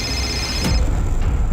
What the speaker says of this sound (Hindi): संतोष के वॉचमैन का फोन था